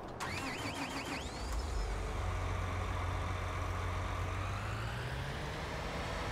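Tractor engine in Farming Simulator 19 on the Ravenport map: a steady low engine drone that starts up after a brief clatter and keeps running evenly, its pitch rising slightly toward the end.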